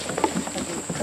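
Goats' hooves clop quickly over a bridge on a homestead in a brief burst of several light, uneven knocks against a murmur of background noise.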